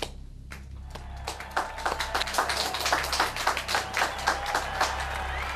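Audience applause welcoming a performer onto a comedy stage, starting thin and swelling into dense, steady clapping from a fairly close crowd, with no speech over it.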